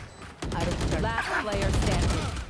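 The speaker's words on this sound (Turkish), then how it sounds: "Spectre ile vurdu bir de." A Spectre submachine gun firing in a Valorant match sounds as a burst of rapid shots, close and fairly loud, mixed with game effects for about two seconds.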